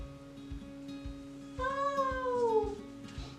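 A cat meows once, a clear, drawn-out, falling call heard alone with no talk over a steady hum and soft rhythmic clicks, as a reward sound in an online English lesson game about mammals.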